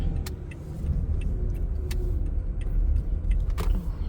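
Steady road traffic rumbles nearby, with cars passing in a continuous low drone and occasional sharper clicks and rattles.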